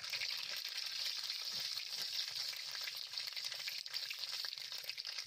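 Mustard seeds frying in hot oil in a wok, along with dried red chillies and bay leaves, give a steady, close, crackling sizzle with fine popping throughout.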